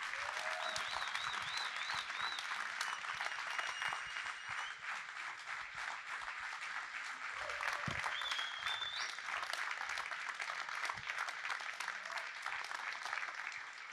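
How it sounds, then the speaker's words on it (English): A standing crowd of insurance agents keeps clapping at a motivational event, long continuous applause with scattered whistles and shouts over the steady patter. "Stand up and keep clapping."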